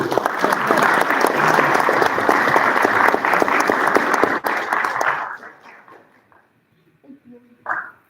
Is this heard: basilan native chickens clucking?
no